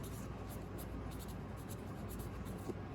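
Marker tip scratching steadily across a plastic cup as a label is written for collard seedlings in a garden, a continuous close, faint squeaky scribbling with short bursts of strokes.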